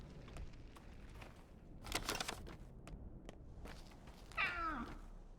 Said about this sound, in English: One of them invisible cats I hear so much about.